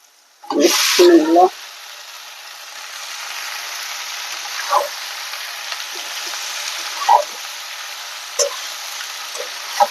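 Okra (bhindi) drops into a hot wok and sizzles loudly for a moment, then frying settles into a steady, softer hiss with occasional scraping clinks from stirring.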